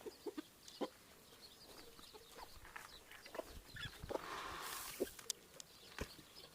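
Chickens cluck softly in short, scattered bursts outdoors, some nearer and some farther, with a brief rush of background noise midway.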